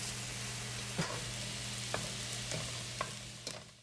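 Shrimp sizzling as it sautés in a wok, a steady close frying hiss broken by a few sharp clinks of stirring at roughly one-second intervals.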